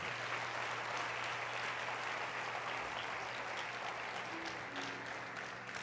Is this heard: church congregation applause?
yes